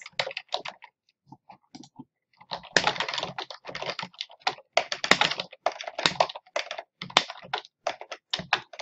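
Steady typing on a computer keyboard while building a WordPress website page, quick clustered keystrokes in bursts with short pauses, close and fairly clear with no talking.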